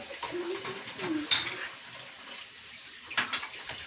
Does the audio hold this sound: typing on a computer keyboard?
no